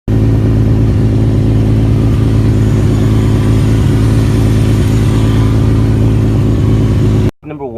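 A car engine runs steadily, tuned toward a louder sound, a continuous low rumble that holds constant and loud for about seven seconds before cutting off abruptly.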